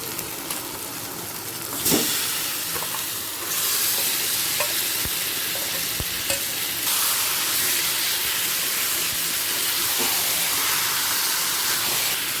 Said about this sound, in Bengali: এবার দিয়ে দেব ম্যারিনেট করা চিকেন